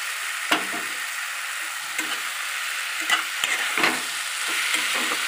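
Spatula stirring fried potatoes and drumsticks in a pan, with a steady sizzle and several scraping strokes close by; no talking.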